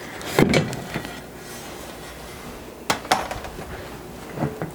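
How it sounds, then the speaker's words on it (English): A party sub bun is turned out of a metal bundt cake pan onto a cooling rack, giving a few short, fairly quiet knocks and clanks near the start and again midway, with quiet pauses between. "So I'm just going to turn this out of the bundt cake pan"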